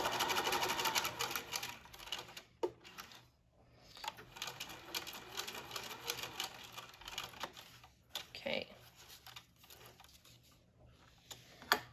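A sewing machine stitches an X pattern across an elastic waistband in short bursts of rapid needle clatter, pausing briefly as the fabric is turned for each diagonal, heard close and fairly quiet.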